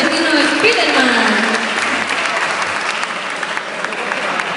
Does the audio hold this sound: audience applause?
yes